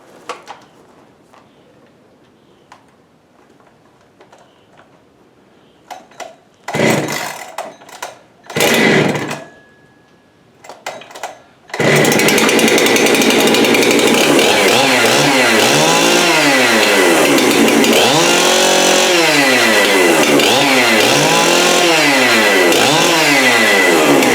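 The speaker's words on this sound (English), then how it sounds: "That's the 2063's entry into the chainsaw pull start race" A Jonsered 2063 chainsaw is yanked with a few sputtering pulls, then catches and roars steadily, its engine note rising and falling as it revs.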